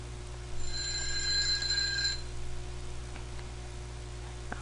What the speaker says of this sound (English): that alarm right there was telling me to cut the video short